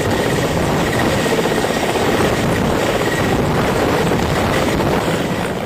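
Small Cheetah helicopter flying over the Kedar valley during flood relief operations, a steady, loud rotor and engine drone with wind buffeting that fills the whole stretch without a break.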